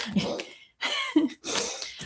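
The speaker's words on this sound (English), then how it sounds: "coughing up a hairball" A cat coughing up a hairball: three short bursts of rough, hacking coughs with brief pauses between them, close by and fairly loud.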